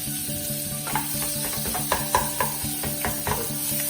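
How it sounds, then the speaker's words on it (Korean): Sliced onions sauté in butter in a pan while making a soft soup, a steady close sizzle broken by several sharp scraping stirs of a utensil, with no talk. "기름에다가 볶는 게 아니라 버터에다가 볶는 거라고 생각하시면 되세요."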